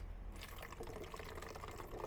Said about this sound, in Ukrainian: наливаємо в пусту пляшку десь